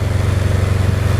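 A Kawasaki KZ550 motorcycle engine idles slightly high, with a close, loud, even low-pitched throb of rapid regular pulses.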